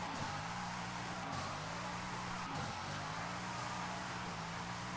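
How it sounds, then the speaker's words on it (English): A Bugatti Divo in Forza Horizon 5 holds a steady engine drone through a drift, its pitch dipping briefly around two shifts while the tone stays level and continuous, with no talk over it. "it is fully drifting through all the gears"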